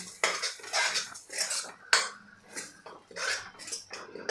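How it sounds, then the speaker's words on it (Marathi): A spoon scrapes and clatters against a pan as ground masala paste is sautéed, in quick irregular metallic strokes close by, with no voices. "हे वाटण आहे हे छान असं परतून घ्यायचं आहे"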